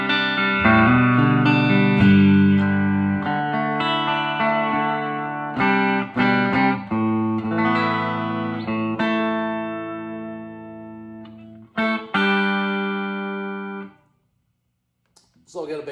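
An electric guitar with Flood pickups plays through a 1968 Fender Vibrolux Reverb tube amp with the overdrive pedal bypassed: clean, ringing chords and single notes in loose phrases, with short pauses and a brief silence near the end.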